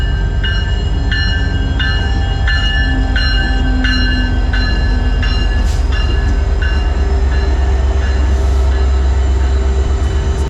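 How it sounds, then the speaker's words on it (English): A train rolls past an off-grid spot in Alaska with a loud, steady low rumble, a run of evenly spaced metallic tonal pulses, and faint wheel squeals. "Here comes the train."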